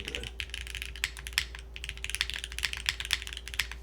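Mechanical keystrokes on a Capy60 R2 keyboard, a rapid uneven run of crisp clacks with a slightly metallic ring, close and fairly quiet, no voices.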